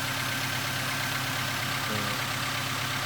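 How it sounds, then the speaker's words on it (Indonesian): A Toyota Avanza engine idles after an overhaul, a steady, even rumble heard close and continuously, alone with no talking. "Begitu nyala dia akan turun sampai ke RPM yang diinginkan oleh mesinnya."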